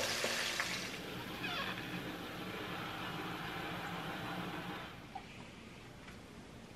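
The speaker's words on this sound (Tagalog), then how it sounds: "So, ipiprito ko muna to." Fish frying in hot oil for escabeche, a steady broad sizzle that is louder at first and eases slightly toward the end, with faint clatter and no talking.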